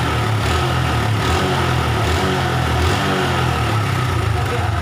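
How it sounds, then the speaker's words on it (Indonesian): A Honda Revo motorcycle engine runs close by at a loud, steady idle with a continuous rumbling throb, no clear rev changes standing out. "Sekarang kita dengarkan RPM mesinnya ya."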